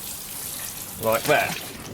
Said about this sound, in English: just get my watering can like so and just proceed